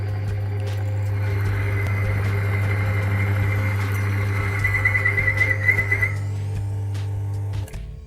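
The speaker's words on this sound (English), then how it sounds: "When engine start running" A car engine idles steadily during an engine treatment test, a loud, constant low hum with a faint whine above it, before cutting out near the end.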